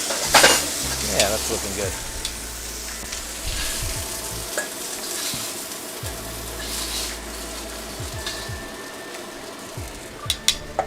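Steak searing in a hot wok gives off a loud, continuous sizzle and crackle, with stirring scrapes and a few metallic clinks, close by; a voice briefly speaks over it.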